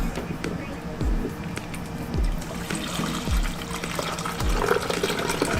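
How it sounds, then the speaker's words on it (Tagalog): Water pours and trickles into the reservoir of an Imarflex ICM-500A coffee maker, a close, irregular splashing and gurgle that carries on under a person speaking. "ilagyan mo lang ng tubig. Ilagay mo lang dito yung tubig."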